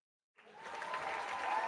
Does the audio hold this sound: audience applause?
yes